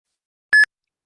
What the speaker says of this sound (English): tap the microphone and say the word after the beep